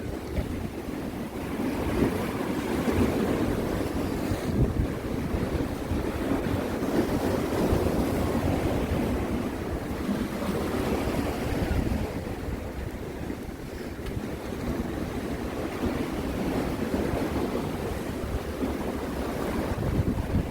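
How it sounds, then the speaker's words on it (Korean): High sea waves surge against a harbor breakwater in rough weather, heard as a continuous low roar with wind buffeting the microphone, swelling and easing slowly without any talk. "파도가 많이 높은 것 같습니다."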